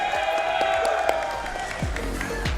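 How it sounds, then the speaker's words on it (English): At the VRML CON 2024 Breachers grand final, a crowd cheers and applauds through the whole moment, a dense wash of clapping and whoops under a steady tone. "A hype crowd for Skyscraper"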